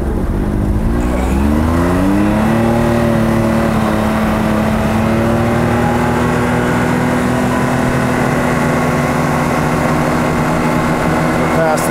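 A turbocharged car runs loud and close on its high boost setting, the engine note climbing steadily as it accelerates hard, with a continuous roar under the pull and faint wind and cabin noise throughout.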